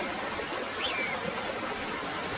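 Rainwater rises and flows in an animated jungle story, a continuous hissing rush with no breaks, steady and moderately loud, with one faint high chirp briefly above it.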